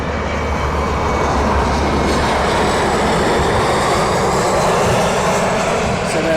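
An aircraft at East Midlands Airport at night gives a loud, steady roar of jet engines, a broad continuous rumble that persists without a break.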